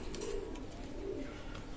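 Pakistani high-quality running pigeons give soft, low coos, two rounded calling phrases rising out of a steady background hum, fairly close and with no voices.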